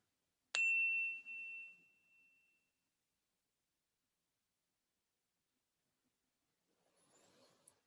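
A meditation bell is struck once, a bright clear tone that rings on and slowly fades into near silence, with a faint rustle near the end.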